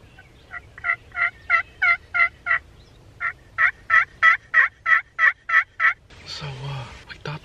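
Wild turkeys gobbling on a spring hunt, about fifteen loud rattling gobbles in two quick bursts of rapid-fire calls from more than one bird, moderately close, followed by a rustling thump.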